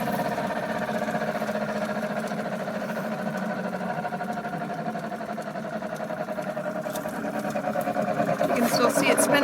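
A Patriot electric chipper shredder keeps spinning after being switched off, a steady, loud whirring hum with a rough mechanical rattle that carries on throughout and swells slightly toward the end.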